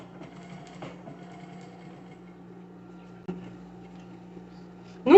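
A sewing machine stitches back over earlier seams on a fabric fru-fru rug, giving a steady, close mechanical hum with a faint knock partway through and a louder burst at the end.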